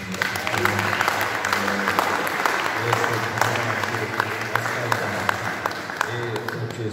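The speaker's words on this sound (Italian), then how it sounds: "magari facciamo un applauso" An audience claps warmly and continuously while a voice talks underneath the applause.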